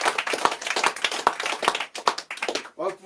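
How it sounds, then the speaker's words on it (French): Audience applause in a live show setting, dense continuous clapping from many hands with steady rhythm, loud and close, fading briefly near the end. "On va pouvoir se refaire aussi un deuxième tour d'applaudissements pour tous ceux qui sont passés par là."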